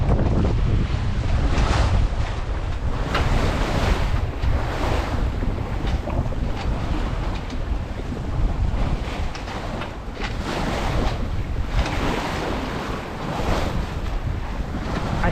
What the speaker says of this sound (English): Oh, look at these waves.